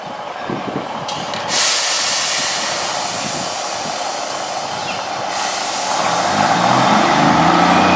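A Class 153 single-car diesel unit pulls away, its broad rumble and hiss building steadily and growing louder toward the end, with a brief sharp burst of air early on and no voices.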